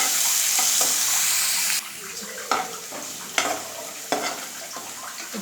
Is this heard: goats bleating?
no